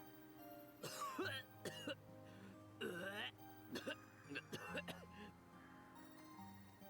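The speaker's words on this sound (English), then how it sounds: "Sho kept hacking and coughing as though he were choking on his own spit" Several harsh coughs and throat-clearing hacks come in uneven bursts, close by, with short pauses between them in an otherwise quiet room.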